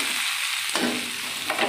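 Rice frying in a pan for Bengali basanti pulao, a steady close-up sizzle with a couple of scraping stirs, and no talking.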